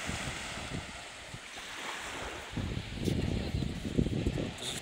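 Sea waves wash steadily onto the shore with a soft, continuous roar, with light wind rushing across the microphone.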